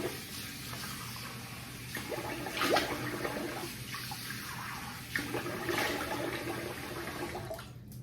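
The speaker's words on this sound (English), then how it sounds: "I'm gonna rinse the face here." Running water splashes steadily as a face is rinsed after a shave with a Stirling soap and an SE Leaf Twig razor holding a half Nacet blade, with a few brief louder splashes and hand scoops near the microphone.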